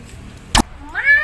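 A wild cat gives a single short meow, rising and tonal, near the end after a brief loud knock, over faint background noise.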